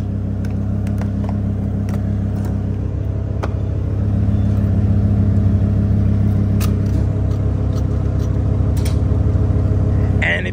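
A Lamborghini Huracán idles steadily at a gas station, a deep continuous engine rumble close by, with a few faint clicks and a voice over it.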